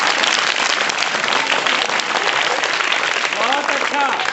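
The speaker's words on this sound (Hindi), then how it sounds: "इसके लिए ताली बजाएंगे हम।" Steady, dense applause from a group of students at a lesson, clapping continuously throughout, with a voice briefly rising over it at the end.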